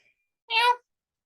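A single short, bright chirping call from a cat named Baroness sounds close and clear in an otherwise quiet room.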